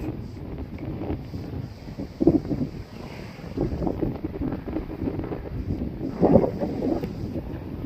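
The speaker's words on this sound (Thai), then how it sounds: "ลมแรงมาก" Strong wind gusts buffeting the microphone beside the Lam Pao reservoir in Thailand, a steady low roar with louder bursts near two and six seconds and no talking.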